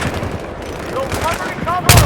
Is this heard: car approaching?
no